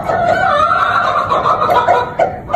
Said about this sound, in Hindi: ये देखें कैसे आवाज़ लगा रहा है अपनी मुर्गी को